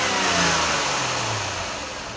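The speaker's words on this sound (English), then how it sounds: "I'm going to take away the fuel right now. Snap the throttle." A car's engine revs as the throttle is snapped open during emissions testing for a failed smog check with a catalyst efficiency fault, a loud, close, sustained roar that slowly fades.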